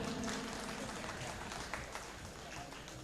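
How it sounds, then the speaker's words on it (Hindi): Applause from the audience at an Indian awards ceremony, steady and somewhat distant, clapping continuing throughout without a break. "तालियां बजाते रहिए।"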